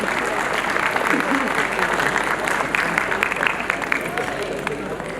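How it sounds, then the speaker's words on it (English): Applause for an award-winning student at a school annual day celebration fills the hall, a loud, sustained wash of clapping with crowd murmur underneath. "Let's give a resounding round of applause for her remarkable accomplishments"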